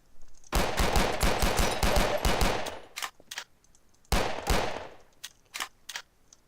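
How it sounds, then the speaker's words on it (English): Rapid automatic gunfire from a Source SDK mod shooter rattles out in a long loud burst of evenly spaced shots, followed by a pause and then a second burst and a few scattered single shots. "That's to give variety when you're just firing off tons of shots."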